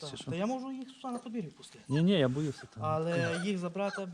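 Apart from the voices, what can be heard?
None of the usual background noises is heard.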